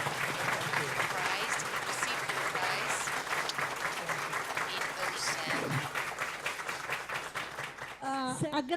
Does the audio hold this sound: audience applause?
yes